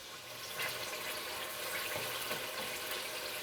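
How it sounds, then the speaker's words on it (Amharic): Water pours into a pan of corn kinche with garlic on a lowered flame, a steady rushing splash that runs throughout, heard close with no talking. "አሁን ውሃ ነው የምጨምረው።"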